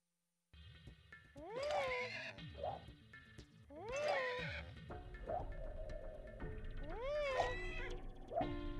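A cartoonish seahorse neighs and whinnies in the Spyro: Ripto's Rage water world of Aquaria Towers, three drawn-out wavering calls close up with short sighs between them, no one talking.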